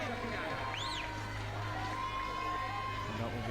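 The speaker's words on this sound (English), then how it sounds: "And that will be cheered on." A home crowd at an outdoor bouldering competition cheers and calls out for a climber, a broad distant roar with whistles, running under constant background noise.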